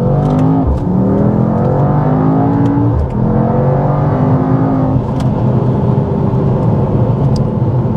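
A Mercedes-AMG GT 63 S E Performance hybrid with 843 hp accelerating hard: a loud, close engine roar climbing through rising revs with quick gear shifts, sustained and alone without voices.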